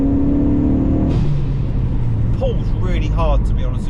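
A Ford Focus ST mk3 accelerates hard under turbo boost on a short pull, engine drone rising steadily and then shifting, heard from inside the cabin with a voice talking over it.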